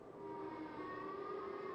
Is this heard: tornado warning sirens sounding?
yes